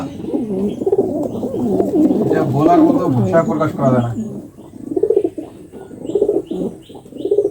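Kept pigeons give soft, low cooing calls close by, partly under someone talking. The coos repeat more clearly toward the end.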